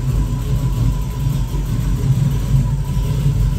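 A 1970 Chevrolet Nova with a 383 stroker V8 and four-speed manual runs with a deep, steady low rumble, loud and close, idling evenly without talk.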